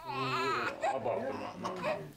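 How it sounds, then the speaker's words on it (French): A baby fussing and crying: a close, whiny, wavering cry that rises and falls in a few uneven bursts, heard alone without other voices. "Maintenant, le bébé montre des signes d'agitation."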